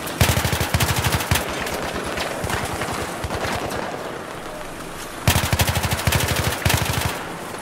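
Rapid automatic gunfire in the Battlefield 3 campaign, loud bursts of machine-gun fire starting and stopping, with a long stretch of dense sustained shooting and battle noise in between.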